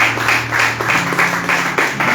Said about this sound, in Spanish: En un fuerte aplauso al Rey de Reyes y Señor de Señores.